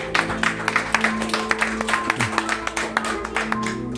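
Church congregation clapping during a sermon, a rhythmic, uneven run of claps over a sustained organ or keyboard tone, with steady hand-claps pulsing throughout.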